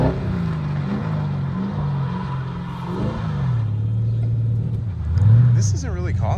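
A car drifts with its engine droning and revving in fluctuating pitch, rising near the end, heard from nearby while people talk over it.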